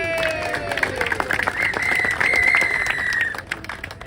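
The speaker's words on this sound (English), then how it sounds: "Let's give Lee a round of applause for all the years he's kept this whole thing going." A crowd applauds Lee Housekeeper at the outdoor 1906 earthquake and fire anniversary ceremony in San Francisco. Dense clapping runs throughout, with a high whistling tone rising and drifting above it.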